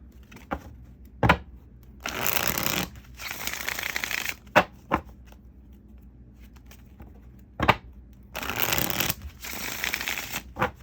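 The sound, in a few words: shuffling tarot cards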